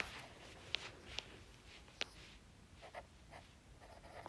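Faint scratching of chalk or a pen as a chemistry answer is written down, with a few soft, sharp taps spread over several seconds in a quiet room with no speech.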